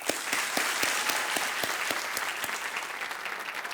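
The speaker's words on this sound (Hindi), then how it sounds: "इसके लिए एक और ताली बज जाए।" A television quiz show studio audience claps in warm, sustained applause, with scattered sharper individual claps standing out near the front.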